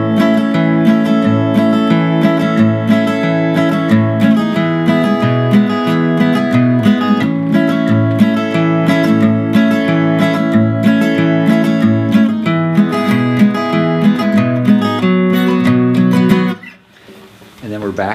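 An acoustic guitar plays a chorus in steady, rhythmic strummed chords. It sounds close and full, then stops abruptly near the end, leaving a quieter tail.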